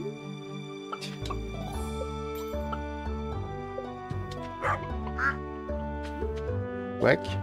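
A duck quacks repeatedly in the farming game Stardew Valley, bright short calls scattered over several seconds on top of sustained game music, with occasional barks mixed in.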